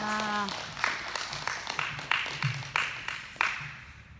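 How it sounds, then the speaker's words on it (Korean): A Korean church congregation applauds as an elder comes forward, a brief tone sounding first, then rhythmic unison clapping in a steady beat of sharp bursts. "우리 하나님께 영광의 박수 올려드립니다"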